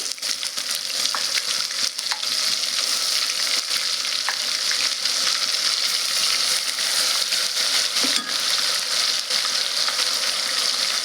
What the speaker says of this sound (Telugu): ఇది కొద్దిగా పచ్చివాసన పోయేంత వరకు వేయించుదాము